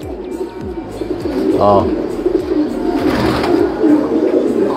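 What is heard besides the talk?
Japanese racing pigeon cooing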